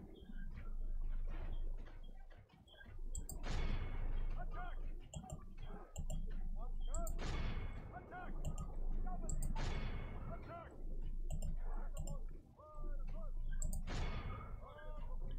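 Siege weapons firing during a castle siege in Medieval II: Total War, a series of booming launches and impacts recurring every few seconds over a busy battle din, with someone talking over the action.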